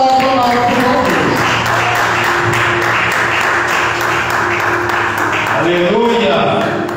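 A church congregation applauding in a continuous wash of clapping that fills the room, with a voice speaking over it and sustained musical tones underneath.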